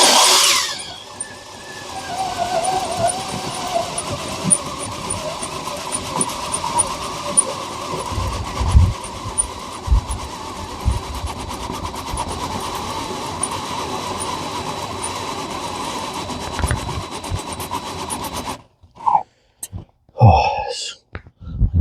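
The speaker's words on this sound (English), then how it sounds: "Turn up the juice on this drill." A steady, sustained mechanical whir of a power drill running continuously for a long stretch inside a Chevy Express van, then cutting off, followed by a few brief knocks.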